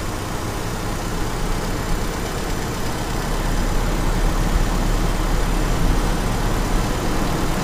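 A Toyota Kijang petrol engine with a distributor and carburettor runs steadily, its idle held at a constant loud drone that rises slightly partway through as it is revved a little, with no talking.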